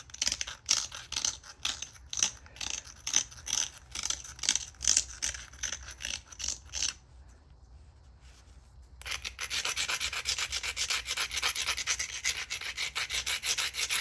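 Abrasive grinding of the beveled, partly cortex-covered edge of a stone flake blade during an Eden point knapping attempt: close, rhythmic rasping strokes for about seven seconds, a brief pause, then steady continuous scraping.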